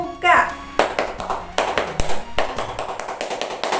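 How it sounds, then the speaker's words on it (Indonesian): Children doing a rhythmic scout clap in patterned bursts of sharp, close claps with short pauses between groups, beginning after a brief spoken call. "Tepuk pramuka!"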